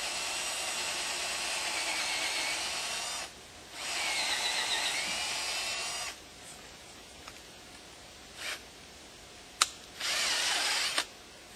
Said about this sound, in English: Okay, we're just going to drill a hole here.